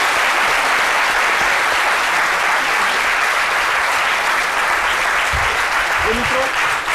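A French television studio audience claps loudly and continuously to welcome a guest's father onto the set, a dense wash of applause that stays strong throughout with a voice briefly rising near the end.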